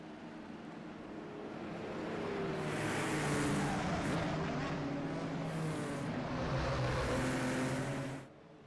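Indy open-wheel race cars at the Long Beach Grand Prix street circuit, a steady roar of engines swelling as the pack passes, with overlapping pitches sustained for several seconds before fading abruptly.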